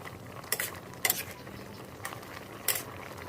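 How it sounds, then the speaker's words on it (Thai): A spoon stirring a seasoning mix of salt, sugar, light and dark soy sauce into pork in a pot, a few sharp metallic clinks against the pot spaced about half a second apart over a quiet background, no talking. "คนส่วนผสมเข้ากันเลยครับ"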